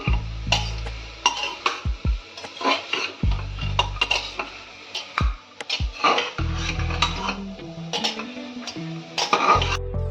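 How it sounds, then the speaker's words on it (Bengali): Chicken soup ingredients being stirred and fried in a pan, with repeated utensil clanks and scrapes against the metal, close and fairly loud, plus a few coughs and throat clearings and no speech. "কিছুক্ষণ সবগুলোকে ভালো করে নেড়ে চেড়ে একটু ভেজে নিচ্ছি।"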